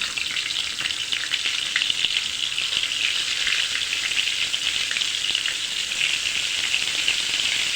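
Kofta frying in plenty of oil, a dense, steady hiss of bubbling oil that runs evenly throughout without pauses.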